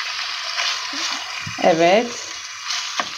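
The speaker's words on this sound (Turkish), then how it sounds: "Hemen kızartıyorum." Steady hiss and crackle of chicken frying in a hot pan, close up, with a brief spoken word partway through.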